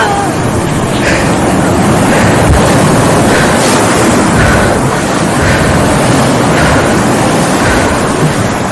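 Storm-tossed waves crash continuously under a roaring wind, a loud, dense, unbroken surge of water and gusts throughout, with no voices.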